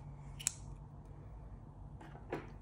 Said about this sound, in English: I can then cut my yarn off.